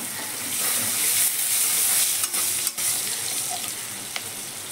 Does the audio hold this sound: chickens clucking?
no